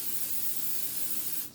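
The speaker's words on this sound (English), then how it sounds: "I'm just going to go ahead and spray." Cooking spray can hisses in one steady continuous burst for about a second and a half while preparing a pan for peach cobbler, then cuts off abruptly.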